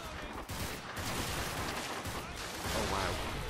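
Dense, continuous gunfire from a Garry's Mod firefight between a SWAT officer and demonic horror monsters, with rapid overlapping shots and bursts filling the whole stretch at steady loudness.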